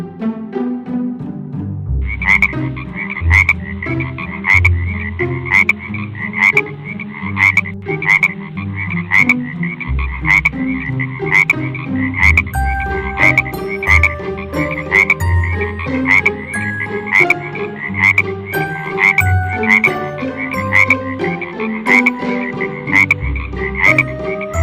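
Chorus of frogs croaking loudly and close, with repeated rhythmic calls layered over one another and continuing throughout.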